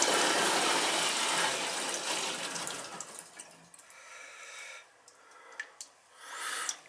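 Water rushes loudly through a condensing boiler neutralizer and lift pump setup after the pump is switched on, the steady flow fading after a few seconds into intermittent splashes and trickles, no talk.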